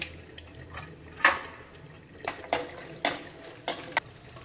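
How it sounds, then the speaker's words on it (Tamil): Cashew nuts dropped into hot ghee in a pan for sweet pongal, with scattered clinks and scrapes of a spoon against the pan over a low, steady background hiss. "நெய் காஞ்சிருச்சு இப்போ முந்திரி பருப்பு போட்டுக்கலாம்"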